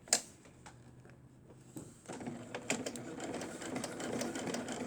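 A sewing machine stitching fabric for a doll-corner project, a faint tick and a pause, then from about two seconds a steady rapid whirring run of stitches, close and moderately loud, alone without voices.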